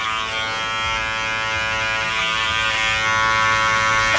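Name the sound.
electric hair clippers trimming a beard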